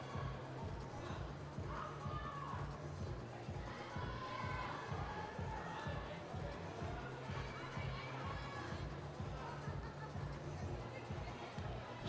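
Crowd at a youth bouldering championship in Innsbruck, a steady murmur of spectators with scattered shouts and cheers running throughout, mid-distance and fairly even in level.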